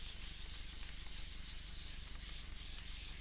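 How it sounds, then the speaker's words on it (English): A small piece of fabric rubs across faux leather, giving a steady, close scratchy friction hiss that runs evenly for the whole stretch with no talking. "I'm gonna get a little piece of fabric to rub it on."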